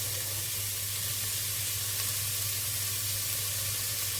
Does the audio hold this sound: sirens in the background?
no